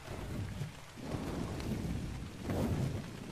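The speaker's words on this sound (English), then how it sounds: "Oh, I hate it when it rains in Ark." Rain and rolling thunder from a storm in the video game Ark fill the scene with a dense, steady downpour and low rumbles that swell and fade, with no voices.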